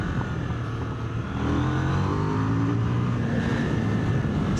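A 2026 KTM 990 RC R motorcycle on a road ride, engine droning under wind noise and then swelling louder as it revs high through the gears, steady and close.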